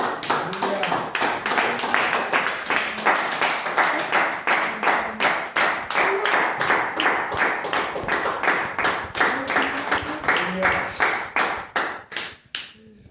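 Church congregation applauding in unison, loud rhythmic claps in a steady beat that carry on for several seconds before breaking up and fading, with voices faintly underneath.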